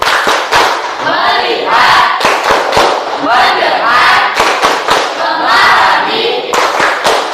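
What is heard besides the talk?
group clapping the "tepuk fokus" focus-clap rhythm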